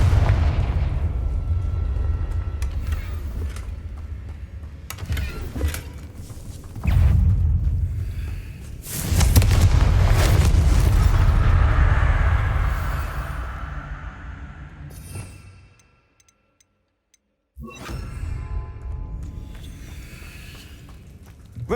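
Repeated Confringo explosion spells cast in a Harry Potter video game, several loud booming blasts with rumbling low-end tails, one big sustained burst in the middle, then a brief near-silent gap before more blasts.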